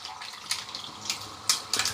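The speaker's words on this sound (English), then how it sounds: "putting water in here and letting this sit on the side" Water poured into a container holding ice cubes, a steady close splashing stream broken by a few brighter clinks and splashes.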